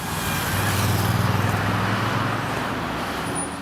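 Road traffic with vehicles passing, a steady low rumble of cars and heavier engines that swells to its loudest around the middle and then settles into a constant drone, with no voices.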